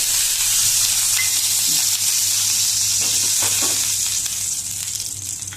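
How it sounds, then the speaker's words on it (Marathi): A hot griddle pan hisses steadily as oil heats on it, a loud continuous sizzle with faint crackles and scrapes, fading slightly toward the end. "हे पळयात तवो तापला, आता पळय भितर तेल घालुया"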